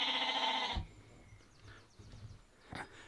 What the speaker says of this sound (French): le mouton de Wesson est très curieux et il parle beaucoup